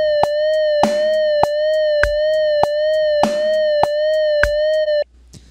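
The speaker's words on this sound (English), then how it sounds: "So that's eighth note vibrato." Simulated guitar note sustained with eighth-note vibrato, its pitch wavering faster than before in time with an evenly spaced metronome click, the tone sounding alone until it cuts off.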